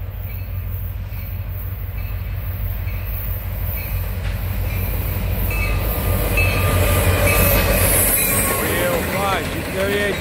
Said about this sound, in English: SD70, running long hood forward with a GP38-2W.